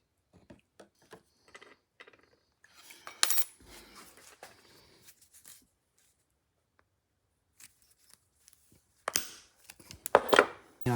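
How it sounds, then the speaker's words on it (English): Guitar fret wire being snipped with a nipper: sharp metallic clicks and snaps scattered through, with a louder cluster of cuts near the end, close and otherwise quiet. "then cut it with the nipper"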